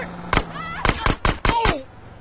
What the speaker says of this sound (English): Oh, dude, they're shooting at him!